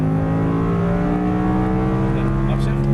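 An Audi R8 sports car engine drones loud and steady from inside the cabin as the throttle is squeezed out of a corner, with strong harmonic tones holding under the steady roar and a driving instructor talking over it.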